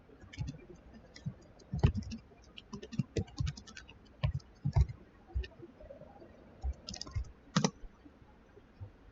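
Fingers type a website address on a computer keyboard: irregular quick runs of close, light key clicks and taps with short pauses between bursts.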